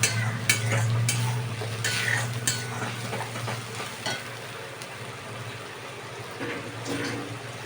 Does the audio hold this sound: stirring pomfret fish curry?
yes